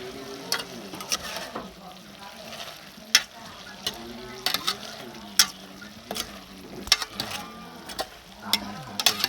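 Spicy rat meat with bamboo shoots stir-fried in a pan, sizzling steadily near the mic with repeated sharp scrapes and clacks of a utensil against the pan.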